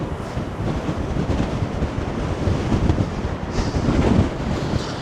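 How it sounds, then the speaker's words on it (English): Gusting wind on Blackpool's seafront promenade rumbles hard against the microphone, a steady loud roar that swells near the end, with no one speaking. "Yeah, it's pretty windy."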